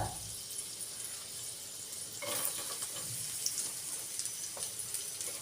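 Onion drops into melted fat in a pan and sizzles, a steady hissing fry with a louder burst of crackle partway through and faint clinks, no voices heard.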